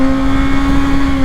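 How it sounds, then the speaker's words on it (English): A 2022 Kawasaki Ninja ZX-6R engine holds a loud, high, sustained rev, a steady close-up tonal whine with no speech. "this thing loves to rev, so let's rev it out a little bit."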